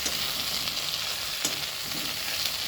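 Fish coated in poppy seed paste fries in a pan with a steady, dense sizzle, and occasional soft scrapes of stirring come through near and clear with no voices.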